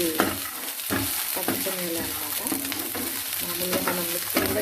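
Sprouted chickpeas (chana) frying in a hot pan for a quick breakfast, with a loud continuous sizzle and repeated scraping stirs close by; no voices.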